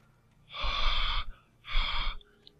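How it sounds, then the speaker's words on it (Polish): Two long, loud, breathy exhalations in the video game Alan Wake, each lasting under a second with a short pause between, like heavy laboured breathing, and no talking. "Słyszycie to oddychanie?"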